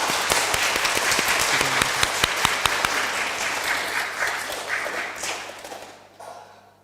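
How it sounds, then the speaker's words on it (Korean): A congregation applauds the church choir during a Korean worship service; dense, steady clapping fills the room, then fades out near the end. "우리 찬양 받으실 하나님께 그리고 예배를 섬기는 우리 찬양대에게 박수 한번 하겠습니다"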